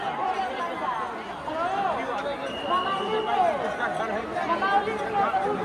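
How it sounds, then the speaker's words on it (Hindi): A dense crowd at Ayodhya during the Mahakumbh pilgrimage fills the air with steady chatter and babble, many voices mingling close by with occasional louder calls. "ये थी वहाँ की भीड़।"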